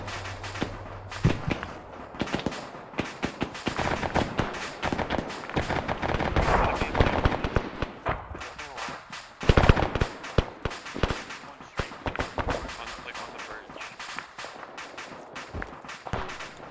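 Ammunition cooking off in the Arma video game, a long run of sharp irregular cracks and pops bursting in uneven clusters, some close and loud, others softer, with faint movement between them.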